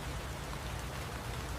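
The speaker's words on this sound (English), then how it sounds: "I am waiting for the rain to stop." Steady rain falls in a dense, even patter that stays constant and fairly loud throughout, with no voices.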